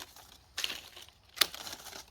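Pruning shears cut a mango tree branch in a greenhouse, producing two sharp crisp snips about a second apart, close and moderately loud.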